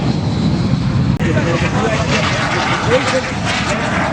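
An L-20 light propeller airplane drones steadily overhead at the Oshkosh airshow, engine buzz filling the background, with a brief dropout partway through.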